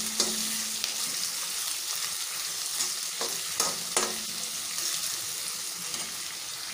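Potatoes fry with onions, green chillies, curry leaves and ginger in a hot pan, a steady close sizzle broken by a few sharp stirring scrapes, with no voices.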